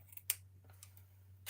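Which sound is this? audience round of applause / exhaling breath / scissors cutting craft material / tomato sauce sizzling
scissors cutting craft material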